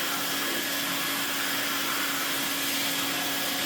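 A restored vintage Kenwood A640 cylinder vacuum cleaner runs on a black rug, giving a loud, steady, unbroken whoosh and hum throughout.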